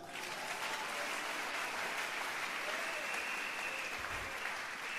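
A congregation gathered at a church service breaks into steady, sustained applause, a dense wash of clapping hands filling the room throughout.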